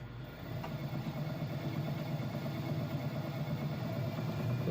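A wood lathe spins a mushroom-shaped wooden burl at low speed, around 500 RPM, giving a steady low motor hum with a faint rhythmic throb, close and fairly quiet, without speech.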